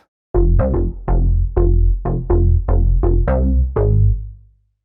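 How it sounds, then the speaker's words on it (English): A punchy synthesizer bass riff of about ten short, rhythmic notes, two bass tones layered into one thick, deep sound, ending in a fading tail. "If I put both of those basses together,"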